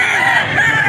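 A hennie farm-breed rooster lets out a single loud, close crow, a short sustained call.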